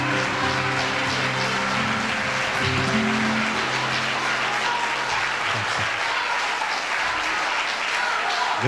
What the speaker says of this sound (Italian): facciamo un altro applauso perché sono straordinari